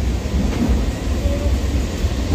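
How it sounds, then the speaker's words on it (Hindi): A local train rumbles past nearby at Uluberia station at night with a low, continuous rolling roar and faint clatter, muffled voices in the background. "अभी लोकल ट्रेन ये पार हो रहा है"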